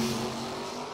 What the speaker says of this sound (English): And I think yep, you hear Hartzell on and off the throttle down there.